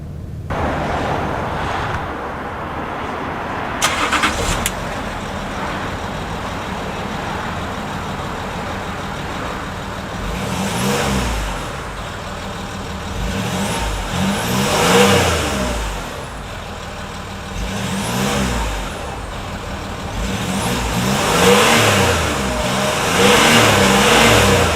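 The engine of a 2007 Range Rover Sport SE revs repeatedly, rising and falling in steady surges with a smooth, fairly quiet tone, heard close and without talk.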